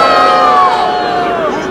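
A loud convention crowd at Cubs Con roars in a sustained groaning shout of disapproval, many voices blending together and slowly trailing off.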